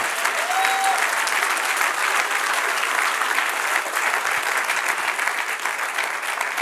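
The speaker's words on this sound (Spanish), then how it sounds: "Dale un aplauso al Señor." A congregation applauds during a church sermon with sustained, even applause from many hands, filling the space steadily throughout, with a faint tone briefly audible early on.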